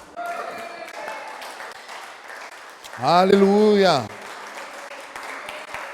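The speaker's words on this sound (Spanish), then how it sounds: "¿Puedes darle un aplauso a Cristo?" Church congregation applauding during a Christian sermon, a steady crowd clatter swelling briefly as a voice cries out loudly over it before settling back to a softer patter.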